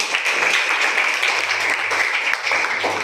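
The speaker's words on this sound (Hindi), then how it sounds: "बहुत बढ़िया, ताली बजा दो।" Students in a classroom give a short, steady round of applause, dense clapping from many hands throughout.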